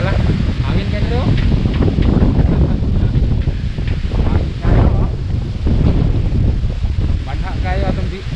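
Strong wind on a mountain roars steadily and loudly into the microphone, buffeting in gusts throughout, with faint voices partly buried beneath it.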